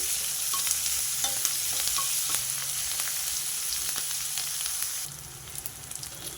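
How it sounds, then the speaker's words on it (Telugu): Sliced onions with a pinch of salt fry in a pan, giving a continuous close sizzle with occasional light stirring scrapes. The sizzle eases slightly toward the end. "ఉల్లిపాయలు వేగడం కోసం కొంచెం ఉప్పు వేసుకుంటా కొంచెం ఉప్పేసా ఉల్లిపాయలు తొందరగా వేగుతాయి"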